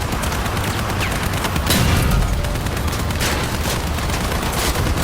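Sustained gunfire pours into an enemy vehicle in the vehicular combat game Crossout, a dense, loud, continuous barrage of shots with booming impacts and no talk over it.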